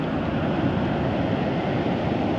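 Sea waves surge against the breakwater at Mangyang beach in Uljin, a steady, loud, broadband wash with wind noise, continuous throughout and no voices.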